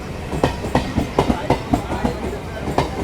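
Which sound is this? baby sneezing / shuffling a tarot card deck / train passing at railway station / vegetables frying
train passing at railway station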